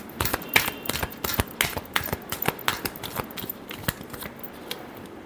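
Tarot cards are shuffled close by in a series of quick, crisp riffling snaps and flutters, irregular and fairly soft, with nothing else heard.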